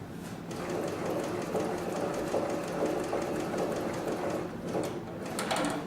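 A Cowboy 6900 arm sewing machine stitches a box pattern, its loud rapid mechanical chatter running continuously with brief pauses at the corners where the work is turned.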